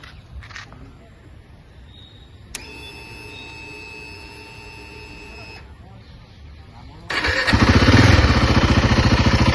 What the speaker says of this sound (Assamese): একবাৰ মই বাইকখন আপোনালোকক ষ্টাৰ্ট কৰি কিনে দেখাই আছোঁ